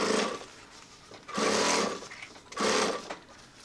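A sewing machine stitching through several layers of a tech kit with elastic webbing, running in three short loud bursts separated by quiet pauses.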